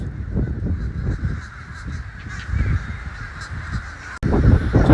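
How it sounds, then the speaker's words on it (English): Many crows and blackbirds gathered before a torrential rainstorm in Sarasota, Florida, caw nonstop in a thick, noisy flock chorus, close and loud, with a brief dropout near the end. "But these are like crows, blackbirds, and they are super nervous."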